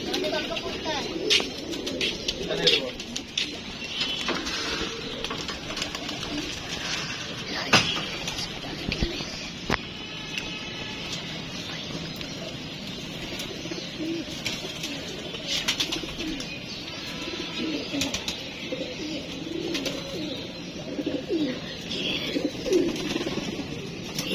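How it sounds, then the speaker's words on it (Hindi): Pigeons cooing in a loft as they are handled and taken out, soft repeated low coos and rustling wing flutters close by, with people talking intermittently over them. "अब्दुल्ला ये पकड़ में ऊपर से कबूतर निकाल लूँ यार, ध्यान से ना कबूतर निकाल दें।"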